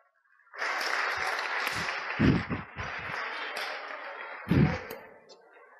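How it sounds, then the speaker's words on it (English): Audience applause following a losing bet in a stage talk on chance, a dense sustained patter of clapping lasting several seconds with a few louder low thumps or stomps breaking through, fairly close and without speech. "Round of applause for my foolish gambler."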